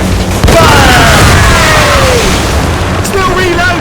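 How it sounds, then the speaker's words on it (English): Ship mortars in the naval game Assassin's Creed Rogue boom loudly and heavily with a roaring wash between blasts, while crew voices shout over the din. "We should fire our mortars, Captain!"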